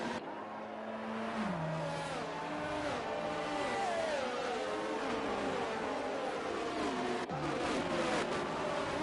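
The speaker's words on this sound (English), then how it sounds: "Cars just slowly coming through." Race cars in a racing video game roll slowly in a pack behind the safety car, engines droning steadily with rising and falling revs, no voices over them.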